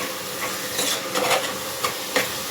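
Vegetable palav masala with chili powder and coriander powder frying and being stirred in a pan, a steady sizzling hiss with a few louder scraping strokes, close and alone.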